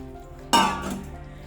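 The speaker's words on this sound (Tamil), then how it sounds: "கொஞ்சம் கொஞ்சமாக நல்லா ஊற்றி மிக்ஸ் பண்ணணும்." A ladle handle knocks once in a pot of flour dough for kozhukattai, a sudden clatter that fades into a short hissing decay.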